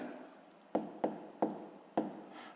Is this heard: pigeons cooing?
no